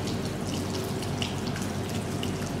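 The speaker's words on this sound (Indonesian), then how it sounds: "Setelah itu nyalakan keran air dengan menggunakan siku secara perlahan." A water tap is turned on and runs in a steady, close hiss of flowing water that holds evenly throughout, with no talking.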